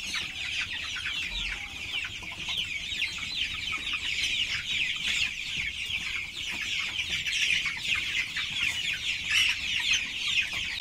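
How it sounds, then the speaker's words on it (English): Three-week-old broiler chicks, a flock of around two hundred in a garden pen, peep and cluck continuously in a dense, busy chorus with no talk. "I have broiler chicks."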